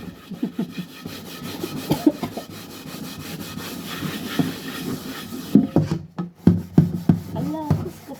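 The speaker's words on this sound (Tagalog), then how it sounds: "bigyan mo din ng effort ang pagkuskus mo para matanggal yung black" Scrubbing a blackened cooking pot with bath soap, a steady rough back-and-forth rubbing close up, rhythmic strokes continuing throughout with a few louder scraping bursts near the end.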